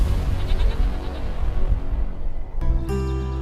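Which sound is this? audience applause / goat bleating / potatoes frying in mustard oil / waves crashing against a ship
goat bleating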